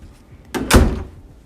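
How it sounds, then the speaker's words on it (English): A house door leading down to the basement opening and closing, giving a single loud wooden knock and thud with a short rattle, alone in a quiet room. "this door goes down in the basement"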